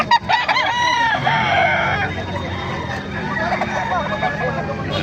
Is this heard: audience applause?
no